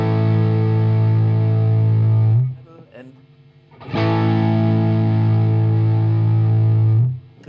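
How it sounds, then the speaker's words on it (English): A high-gain distorted electric guitar rings through a cranked amp with the gain on full, two long sustained chords loud and thick, separated by a short pause where a voice speaks briefly. "So let me try to make a high gain sound. I need more gain. So I crank this thing too."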